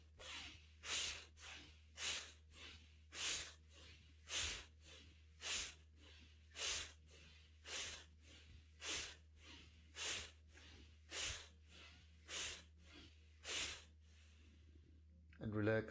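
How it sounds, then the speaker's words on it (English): Forceful, powerful breathwork breaths in a pranayama practice, a steady run of about fourteen loud, sharp rhythmic exhales roughly one per second, close and clear over a low steady hum, with no talking. "Okay, next 10 breaths, very hard, very powerful"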